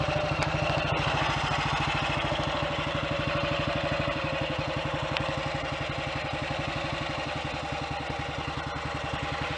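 The single-cylinder engine of a Royal Enfield Clipper 250 with a top-end oil leak idles steadily close by, a rapid even thumping that runs for the whole clip without speech.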